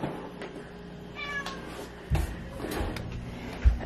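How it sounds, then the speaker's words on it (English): A house cat gives a short meow beside a deep freezer, followed by soft bumps and thuds from handling near the chest freezer in a quiet room. "oh cat, you get out of here"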